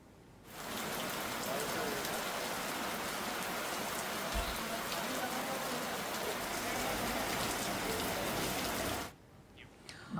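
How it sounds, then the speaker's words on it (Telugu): Heavy rain pours down in Hyderabad, flooding the roads. A dense, steady hiss of downpour begins suddenly, continues loud and unbroken for about eight seconds, then cuts off abruptly. "కొన్ని ప్రాంతాల్లో అతి భారీ వర్షం పడుతుండటంతో రోడ్లన్నీ జలమయమయ్యాయి."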